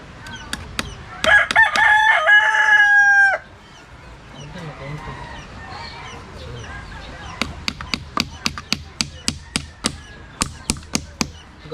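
Rooster crows loudly near the start while hens and other fowl cluck around it at feeding time, followed by a run of sharp, regular clucks and pecking calls close by.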